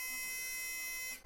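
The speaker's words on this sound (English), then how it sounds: "The buzzer is working," A battery-powered electronic buzzer wired into a homemade hand-stabilizer science project sounds a steady, shrill, unbroken tone close up, cutting off abruptly at the end with no talking.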